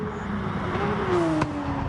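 A Porsche Cup race car engine in a racing video game revs on track, a steady whirring drone with a pitch sweep and a brief shift, moderately loud and close.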